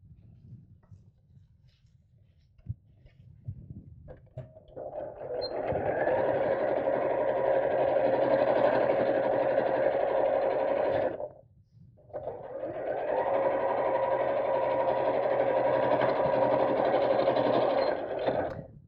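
A sewing machine fitted with a walking foot stitches through thick layers of fabric for a craft bag, running in two sustained bursts of steady mechanical whirring separated by a brief pause, after quiet handling noises at the start.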